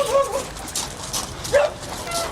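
Dogs bark and yip briefly at a distance. The calls are faint and sparse over a noisy outdoor background, with some indistinct voices.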